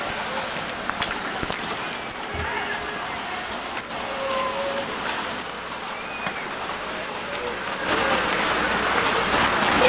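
Heavy rain pouring during a soccer match broadcast, a dense steady hiss with scattered patters that grows louder near the end, with crowd and commentary-like voices faintly underneath.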